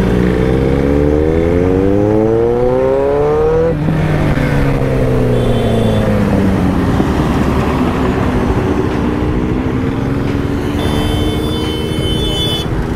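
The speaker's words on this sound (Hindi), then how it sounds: "तो गाइस, सुपर बाइक के साथ चल रहे हैं यार" A Ducati Panigale V4 superbike rides along, its loud engine note rising and falling through gear shifts as the revs climb, sweep and settle, close and continuous with no speech.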